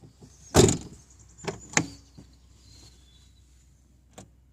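A rear right door of a Fiat Panda II with a faulty lock is shut with a sharp, loud slam near the start, followed by a few softer latch clicks and knocks, then a final tap in a quiet setting.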